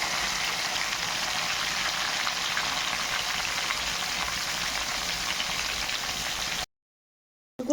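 Pieces of fish fry in hot oil with a steady, dense crackling sizzle that runs continuously and close, then cuts to a brief silence before a short burst at the end.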